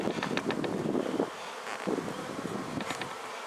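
Honeybees swarm and buzz around an agitated beehive, a dense, continuous droning hum close to the microphone with slight wind noise and no talking.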